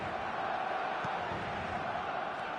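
A stadium crowd in the eFootball 2024 football game, a steady, distant roar of massed voices that holds evenly throughout at a low level.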